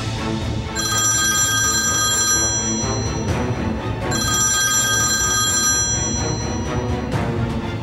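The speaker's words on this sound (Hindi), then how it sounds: "सरकार फोन उठाओ प्लीज" A telephone bell rings in two long bursts with a short pause between them, clear and loud over a dense musical background in a TV drama scene.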